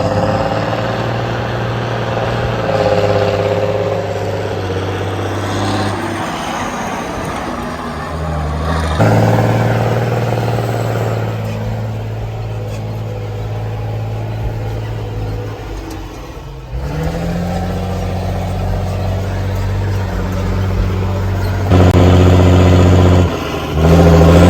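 A Caterpillar dump truck engine running while driving, heard from inside the cab as a loud steady drone that rises and falls with gear changes and throttle, with a few louder revving surges.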